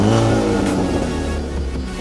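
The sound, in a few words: used manual diesel car engine revving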